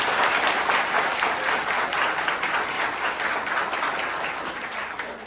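Dense, sustained applause from a church audience welcoming new priests and pastors at a parish celebration on Haiti's Cayemites island, loud and continuous, tapering slightly toward the end.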